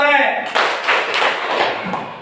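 A group claps hands in response to a spoken greeting at a school dissemination session: a voice speaks first, then several short bursts of claps follow in quick succession, close and fairly loud.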